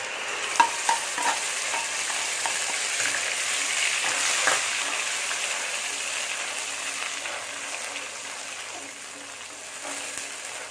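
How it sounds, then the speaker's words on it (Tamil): A ground paste of tomato, ginger and green chili fries in hot oil with fennel for a bread masala gravy, making a continuous close hiss and sizzle that holds steady and eases slightly toward the end, with only faint stirring clicks. "இந்த தக்காளி, இஞ்சி, பச்சை மிளகாய் அரைச்சி அந்த பேஸ்ட்டை இதில் ஊற்றிடும்"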